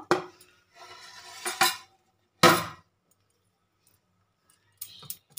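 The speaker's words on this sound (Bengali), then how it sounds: "10 মিনিট বাদে ঢাকাটা খুলে আমি দেখব।" A metal lid comes off a pot of jaggery pitha batter with a few sharp clanks and rattles in a short burst, then a pause and some faint light clicks.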